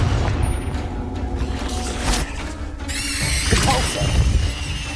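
Blast of the Confringo fire spell in the wizarding game Hogwarts Legacy, a deep boom over rumbling game sounds followed by bright crackling and ringing magical effects that slowly fade.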